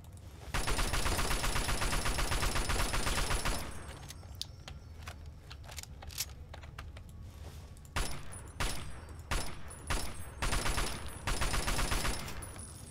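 Sustained automatic assault rifle fire in the video game Fallout New Vegas during a fight with an ant queen, a dense loud burst followed by shorter scattered volleys and sharp game effects.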